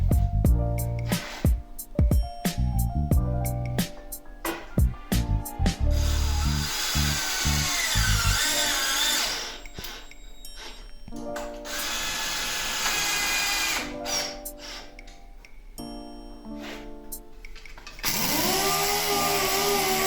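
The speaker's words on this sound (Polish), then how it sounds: "Teraz szlifuję takie deski, które zamocuję do ściany" Power sander working wooden boards for a stair safety gate, bursts of loud whirring broken by short stops, then longer continuous runs of grinding against the wood, close and alone without talk.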